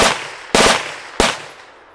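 Astra 902 machine pistol fires three loud, close bursts in quick succession, each sharp onset trailing off into a brief ringing decay, with no voices.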